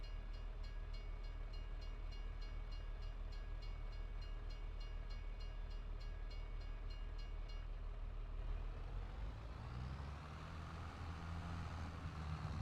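A train passes in Farming Simulator 22, a steady loud rumble with rhythmic clatter of wheels on rails that shifts and thins toward the end as it moves away. No one speaks.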